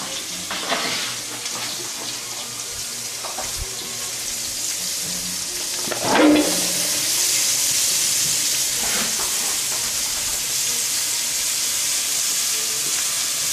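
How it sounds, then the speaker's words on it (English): Vegetables sauté in a pan inside a home kitchen, giving a continuous loud sizzling hiss that swells partway through, with a few clinks and stirring sounds and no talk. "You hear it sizzling?"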